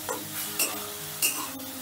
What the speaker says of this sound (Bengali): এবারে জল দিয়েও একটু নাড়াচাড়া করে মিশিয়ে নিচ্ছি